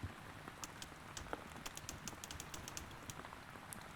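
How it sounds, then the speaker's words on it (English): A typewriter in the video game Lake Ridden types slowly, with quiet, scattered key strikes spread across the moment over a faint, steady hiss; no one talks. "This is really slow typing."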